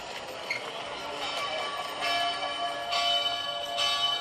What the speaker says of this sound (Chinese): 那这个铃声，它其实是来自瑞士的策马特的城市